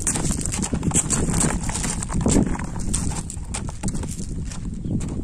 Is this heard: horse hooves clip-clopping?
yes